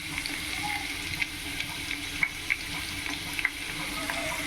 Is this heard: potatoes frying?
yes